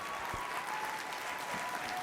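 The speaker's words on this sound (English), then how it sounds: "Let's give another round of applause." A seminar audience at a motivational event claps together for a speaker, a dense, even patter of many hands sustained throughout at moderate distance.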